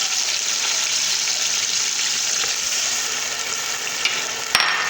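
Tomato puree and chopped tomatoes frying with browned onions in a pan, a steady close sizzle that holds even throughout with a brief stir or clatter near the end.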